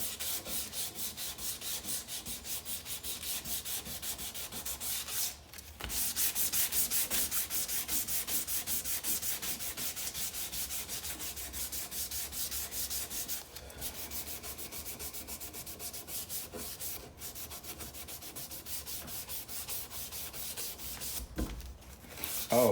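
Sustained hand sanding of a hard desert ironwood knife handle, a close, steady rasping rub with a couple of brief pauses, no voices.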